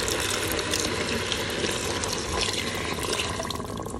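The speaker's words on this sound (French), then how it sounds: "Dans l'eau chaude, j'ai incorporé du bouillon de bœuf." Hot water mixed with beef broth pours steadily into a Cookeo cooker over pasta, a dense close splashing gush that lasts the whole few seconds without talk.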